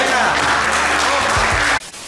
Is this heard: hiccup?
no